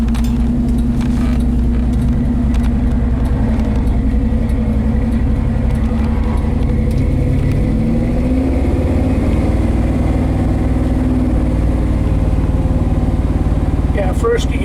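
A 1968 Ford F250 truck drives along in a low gear, its engine producing a steady, loud rumble throughout with slight pitch shifts as it pulls, and a voice talks over it intermittently.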